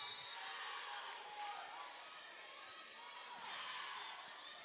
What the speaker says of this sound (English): Lancer crowd fired up.